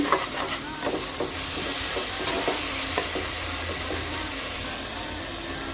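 Tomatoes sautéing in a pan for a parsley chicken gravy give a steady, close sizzle, with light scrapes and taps from stirring scattered through it and no voices.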